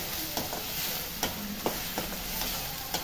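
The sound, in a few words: ground fennel and coconut sautéing in oil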